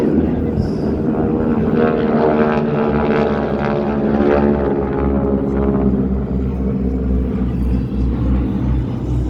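Several heavy, nearly 3-ton propeller aircraft fly overhead in formation at an airshow, a loud steady rumbling roar that holds throughout with no pause.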